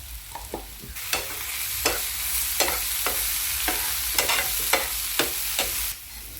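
Onion and ground coconut frying in a pan while being turned over, rhythmic scraping strokes of a spoon about every half second over a steady sizzle, close and fairly loud, ending abruptly.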